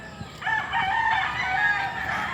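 Chickens call from nearby in the early morning, a drawn-out crowing cry rising over a steady background hum.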